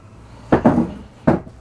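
Drawers in a 2025 Newmar Northern Star 3709 motorhome sliding and shutting, two short close thuds with a brief rattle between, otherwise quiet.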